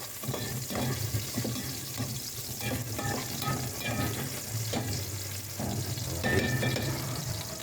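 Chopped onion sizzling in a hot pan while cooking chicken tinola, a steady close frying hiss with stirring scrapes throughout.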